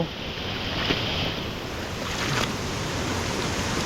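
Heavy rain falls at night as a dense, continuous roar of water, loud and unbroken throughout, with no voices.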